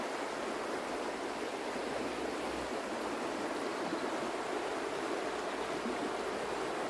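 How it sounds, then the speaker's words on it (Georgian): The Intsira river flows in a steady, dense rush of water that is constant and fairly loud throughout, with no voices over it. "მიედინება. ეს არის მდინარე ინწირა."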